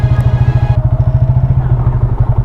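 A motorcycle engine putters at a steady, fast thumping rhythm while riding on a muddy road at a family resort, loud and close, with faint background noise.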